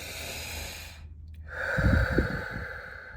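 A few slow, deep breaths drawn in and let out close by, with audible airy inhales and exhales over a soft background hum.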